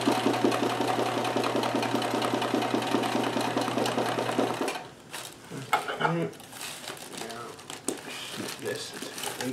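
A Kenmore 158.1914 sewing machine runs steadily at speed during free motion embroidery, a fast rhythmic mechanical stitching hum, then stops and gives way to quieter handling noises while a person talks.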